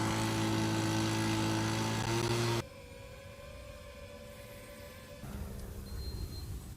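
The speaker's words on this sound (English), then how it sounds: "You'll first hear a leaf blower, then a typical hobby drone that weighs 1 pound, then their drone" A loud leaf blower roars, then gives way to the thin whine of a typical 1-pound hobby drone, followed by a lower, steady hum of a quieter drone.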